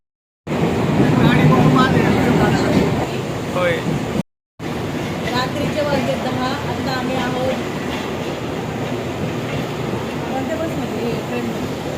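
A Mumbai local train bound for Churchgate rumbles and rattles along the rails with a steady clatter, heard from inside the carriage, while voices talk over the noise and the sound briefly cuts out partway through.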